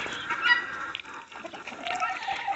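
Bantam hens kept among farm poultry, turkeys and ducks cluck softly at some distance, in short scattered calls over quiet background.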